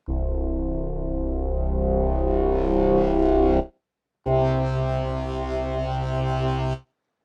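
Bitwig Grid synth patch of a couple of sine waves with phase modulation, first plain then with physical modeling feedback raised, a sustained tone that thickens and brightens into a buzzing, distorted drone before a brief gap and a second steady sustained drone.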